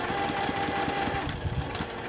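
A domestic sewing machine runs steadily at close range, stitching a half-square triangle quilt block, with a continuous motor whir and rapid needle rhythm throughout and no talking.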